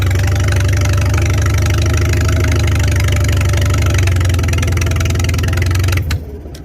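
A 1955 Farmall 300 RC tractor engine, run after sitting for years, chugs loudly with a steady knocking idle rhythm, then cuts off abruptly near the end.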